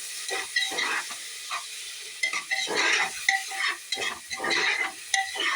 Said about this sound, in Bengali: এরকম করে ভালো করে ভেজে নিতে হবে যতক্ষণ না কাঁচা গন্ধটা চলে যায়।